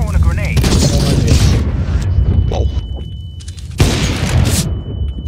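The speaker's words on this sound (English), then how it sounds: "I'm throwing a grenade." A grenade explodes in CS:GO with a loud, booming blast, and a second heavy burst of noise follows a few seconds later, while players' voices are heard around the explosions.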